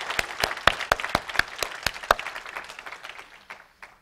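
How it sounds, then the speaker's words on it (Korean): A church congregation applauds at an anniversary thanksgiving service after a choir festival, with a burst of close, crisp clapping that thins out into scattered claps and fades within a few seconds. "하나님께 영광의 박수와 찬양자들 격려 박수 올려드릴까요?"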